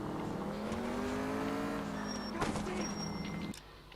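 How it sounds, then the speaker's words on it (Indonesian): Car engine in L.A. Noire, a steady droning hum that holds for a few seconds close by, then cuts off sharply. "Suara mesinnya ini dong."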